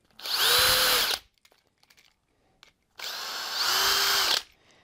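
Power drill backing screws out of a plumbing pipe repair fitting, two loud sustained whirring bursts about a second or more each with a rising pitch, separated by a pause of small clicks and handling noises.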